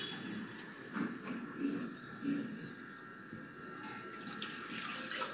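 Water being poured and measured into a vessel for kunjal kriya, the yogic stomach-cleansing practice, a steady close splashing stream with a few louder gushes and no talk.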